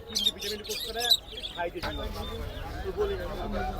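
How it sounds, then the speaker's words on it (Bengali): Pigeons brought in for sale at a busy Hemayetpur poultry market give off repeated short chirps and calls, mixed in with steady nearby chatter and market noise. "তো এখানে বেশ কিছু কবুতর নিয়ে আসলো এক ভাই"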